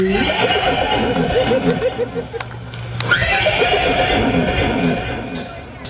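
At a wedding-procession gathering, a horse neighs and whinnies in drawn-out, wavering calls amid a loud, busy crowd, with people talking and singing throughout.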